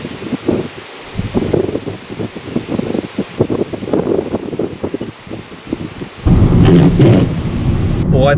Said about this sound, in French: Il n'y a plus de soleil, il n'y a plus que de la pluie, c'est magnifique.